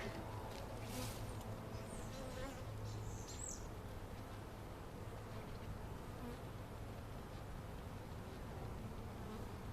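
Honey bees drone in a steady, dense buzz throughout a spring hive inspection, close and continuous with no talking over it.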